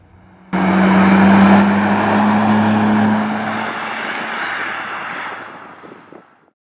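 A 25-year-old Nissan Skyline GTR accelerates hard from inside the cabin, its engine note rising loud and steady for several seconds before easing off and fading out.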